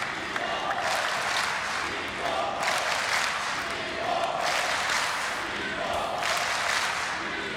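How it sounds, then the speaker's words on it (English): A table tennis crowd at the 2018 German Open chants and cheers for Timo Boll during his quarterfinal against Ma Long, a loud, dense roar that swells in regular rhythmic waves. "No German needed to be part of this cheer."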